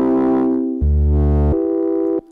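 Synthesizer preset with a low-pass filter added, three sustained notes in a row, each held for about a second, bright but softened, with the last cutting off abruptly; no talking.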